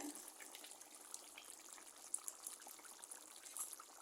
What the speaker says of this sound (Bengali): একটু পানি দিয়ে দিই হালকা।